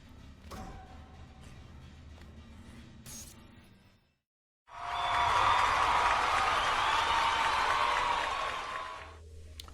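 A stretch of quiet background noise with a few clicks, then a sudden burst of sustained applause from a crowd that holds steady for several seconds before stopping.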